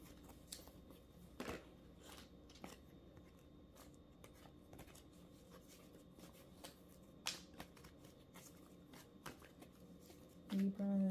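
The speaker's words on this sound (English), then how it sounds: "Gotta shuffle y'all." A deck of tarot cards is shuffled by hand, with a steady run of soft riffling and flicking taps that builds to a louder flurry at the end.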